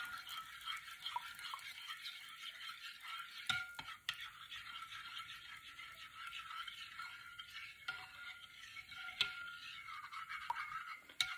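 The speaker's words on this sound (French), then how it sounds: "Maintenant, nous allons mélanger le tout." Spoon stirring ground coffee into a thick homemade natural shampoo mixture, a soft continuous scraping and swishing with a few sharper clinks, quiet and close, no voices.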